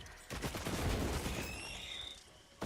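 Automated turrets in an action video game fire a dense, continuous rattling barrage, loud and close for about two seconds before it cuts off, with no talking.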